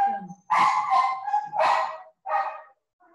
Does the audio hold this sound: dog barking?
yes